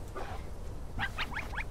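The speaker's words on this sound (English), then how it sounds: "Guys, when you bark, the babies bark." Animals bark in the video game Shelter: a quick run of four short, high yips near the end over a steady, noisy game background.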